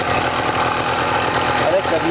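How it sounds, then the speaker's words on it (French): A warm motorbike engine idles with the idle set slightly high, a steady low chugging running throughout at close range, with someone talking over it. "là j'ai mis le ralenti un peu haut, le moteur est chaud"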